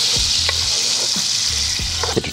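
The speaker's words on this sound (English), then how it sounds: "Now that I got my oil back up to temp, I always start, anytime I'm doing anything, I start with my onions first" Chopped onions sizzling in hot oil in a cooking pot for fried cabbage, a steady loud hiss with a few soft scraping stirs and clinks through it, no voices.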